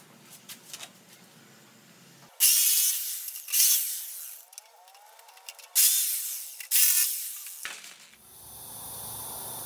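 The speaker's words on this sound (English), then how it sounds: "I'm going to use my jigsaw to cut these notches out for the legs." Jigsaw cutting notches in pallet wood, with four loud bursts of rapid buzzing that start and stop sharply, separated by quieter handling noise and a low hum toward the end.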